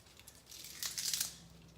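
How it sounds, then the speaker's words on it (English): Fresh coriander torn by hand, a short burst of soft crisp ripping and crinkling that swells in the middle and fades, close and fairly quiet with no talk. "Already washed coriander, rip the end off"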